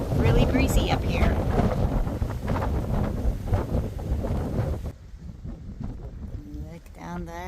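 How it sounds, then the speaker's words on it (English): Strong wind buffets the microphone at a high cliff overlook on the Appalachian Trail, roaring and gusting loudly before easing to a lighter rumble with some faint voice in the background. "Really breezy up here."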